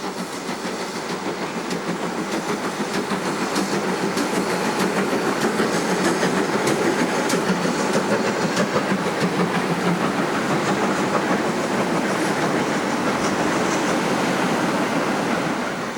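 Locomotive 4141 hauls a freight train past the station house at Berwyn on the Llangollen Railway, giving a steady, sustained rumble with rhythmic clatter of wagons that holds for the full length.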